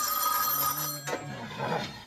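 A telephone rings on a prank collect call, its electronic ring tone sounding clearly and steadily and then breaking off, with a short burst of noise after it.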